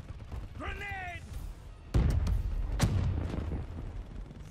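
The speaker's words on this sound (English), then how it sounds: "Grenade!" A grenade goes off in the video game Black Ops 3 with a sudden heavy boom, followed by a second sharp blast, amid background battle noise and voices.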